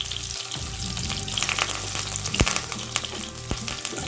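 Ivy gourd sautés in a pan on a low flame as curry leaves are added, giving a steady close sizzle broken by light scraping and stirring clicks and one sharp knock.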